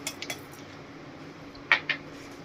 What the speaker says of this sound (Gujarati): 2 થી 3 આપણે આઈસ ક્યુબ એડ કરશું